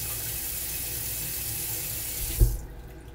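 Tap water runs steadily into a sink while raisins are being washed, a continuous hiss that stops abruptly near the end with a brief splash and drip.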